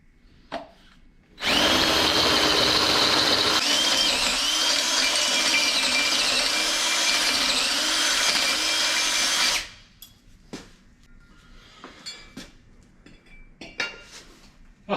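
A power drill bores a half-inch hole during a 1964 Buick Riviera rear air bag install, loud and steady for about eight seconds, close up, its whine wavering slightly, then stops, leaving faint clicks and handling noises.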